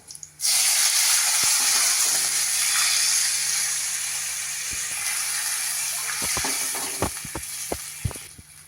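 Water poured into a pan holding peas and turmeric, a steady loud hiss and sizzle that fades slightly and ends with a few sharp clinks and taps.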